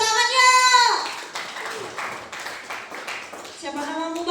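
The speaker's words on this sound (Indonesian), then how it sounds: "Ya, tepuk tangannya." Scattered group applause at a training class on playing traditional instruments, sparse hand claps over a few seconds, with a voice briefly heard at the start and end.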